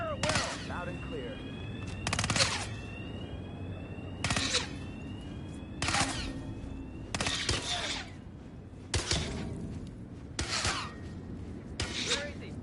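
Repeated bursts of gunfire in Hitman 3, about seven sharp broadband volleys spread irregularly across the stretch, loud and close, with voices talking in between.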